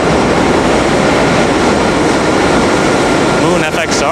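A commuter train rumbles loudly and steadily past on a Brooklyn to Manhattan route, a dense continuous roar filling the whole stretch with faint rhythmic rail clatter near the end.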